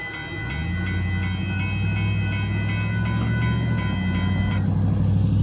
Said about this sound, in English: that's a really late Amtrak Texas Eagle 21 here tonight